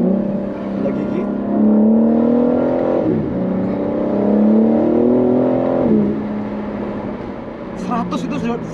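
A BMW M4 Competition engine revs up in rising sweeps, dropping in pitch at each manual gear change before climbing again, loud and close.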